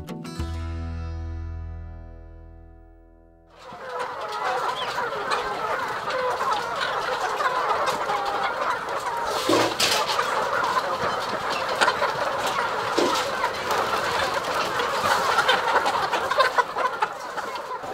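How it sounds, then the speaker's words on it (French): Laying hens on a poultry farm of about 3,500 birds in Conakry cluck in a dense, continuous flock chorus, loud and close. The first few seconds hold a tonal music-like sound before the birds take over. "une ferme avicole de 3500 poules pondeuses"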